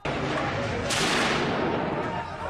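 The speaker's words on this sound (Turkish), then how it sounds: "teröristler tankla yaptıkları top atışlarında minareyi işte böyle vurdu" Tank cannon fire striking a minaret in Aleppo during the Syrian war: a loud, sustained roar of blast and debris with a sharper burst about a second in, alone with no voices.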